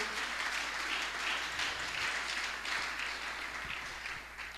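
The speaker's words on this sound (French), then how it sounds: "Est-ce qu'on peut acclamer le Seigneur?" Church congregation applauding the Lord, a sustained even round of clapping heard from across the room, ending with a sudden loud thump.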